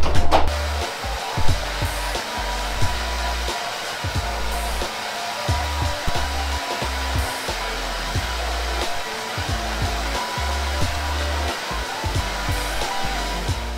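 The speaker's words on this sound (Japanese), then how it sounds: "とりあえず私髪だけ乾かすし" A handheld hair dryer blows continuously while a woman dries her hair at home, a loud, close, steady whirring roar with small fluctuations as it moves, with no talking.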